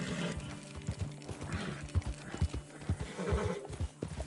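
Horse in Red Dead Redemption 2 giving neighs and snorts over clip-clopping hooves, a quiet, close sequence of irregular hoof thuds and vocal bursts.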